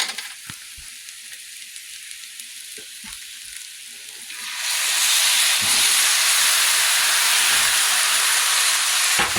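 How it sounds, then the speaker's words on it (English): Marsala wine is poured into a hot pan of jambalaya to deglaze it. A light, steady frying sizzle turns abruptly into a loud, rushing hiss of boiling steam halfway through and holds there to the end, with no talking. "I've got some good cooking marsala that I'm going to deglaze"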